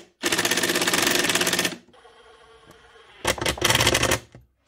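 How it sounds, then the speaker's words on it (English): A power drill drives screws up from underneath into a wooden panel on a pullout tool board, in two loud, sustained buzzing runs separated by a short quiet pause. "what I'll do is I'll drive screws up from underneath"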